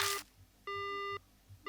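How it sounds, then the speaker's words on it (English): A dead phone line gives a busy tone in the horror game Death Mark, with short repeated electronic beeps separated by pauses, heard cleanly and alone. "Phone goes dead."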